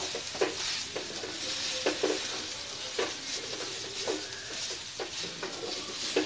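Raw banana and grated coconut are stir-fried in a pan for a Tamil poriyal: soft sizzling runs beneath repeated scraping spatula strokes at an uneven rhythm, quiet and close, with no talk.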